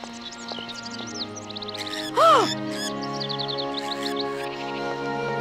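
Birds caw and chirp in Syberia, set in the town of Barrockstadt, a cluster of bright repeated calls with one louder harsh caw in the middle over a steady ambient drone, with background voices.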